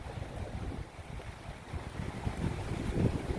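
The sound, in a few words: strong wind blowing on Lake Michigan shore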